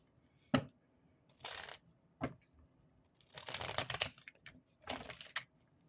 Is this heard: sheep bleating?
no